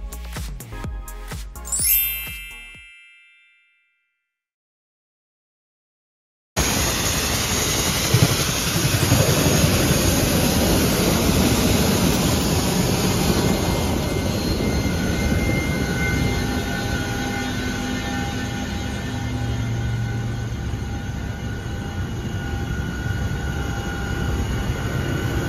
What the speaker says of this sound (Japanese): ヘリはすっごい音がするのね。